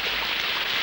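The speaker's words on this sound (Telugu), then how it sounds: "వర్షం చూడు ఎంత అందంగా కురుస్తుందో" Steady, dense rain falls without pause, a continuous close hiss of drops striking a surface with no voices over it.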